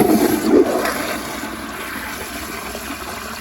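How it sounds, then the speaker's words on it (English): An American Standard toilet flushes to clear leaves from the bowl: a brief rushing surge of water at the start, then a steady hiss of the tank refilling, close by and alone. "So looks like it's gonna take 3 flushes to get all the leaves out"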